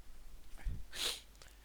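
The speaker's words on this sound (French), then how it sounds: "Ah, envie d'éternuer." A single quick, soft sneeze from a man at a desk: a brief breathy intake followed by a sharp hissing burst, close to the microphone and fairly quiet, with no other sounds around it.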